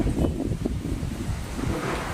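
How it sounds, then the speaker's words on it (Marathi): Strong whirlwind gusting across an open roadside, a steady roaring rumble of wind buffeting the microphone with no talk. "उचलून नेते वरी वावटळ आपल्याला."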